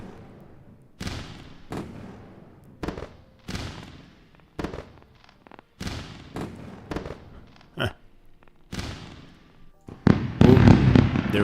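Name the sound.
fireworks sound effect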